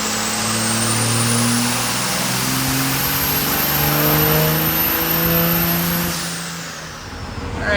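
A diesel engine with a VP44 pump and a 67/70 turbo revs hard and holds a loud, steady roar with a turbo whistle on top, then eases off near the end.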